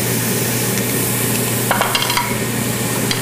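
Marinated Tuscan chicken pieces laid on the hottest part of a hot grill give off a steady, close sizzle and hiss, with a few brief crackles and pops partway through and no talking.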